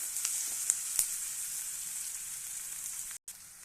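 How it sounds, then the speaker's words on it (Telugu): Bitter gourd (karela) fries in a pan with a steady close sizzle, a few sharp pops and a brief break near the end, no talking. "చూడండి, ఇలా ఫ్రై అయ్యేంత వరకు ఉంచాలండి."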